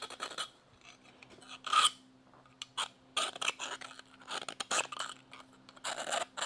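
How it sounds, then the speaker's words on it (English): A compound file rasps back and forth on a steel frame rail to deburr it, producing close scraping strokes in irregular bursts with short pauses between them. "Let me get the compound file and"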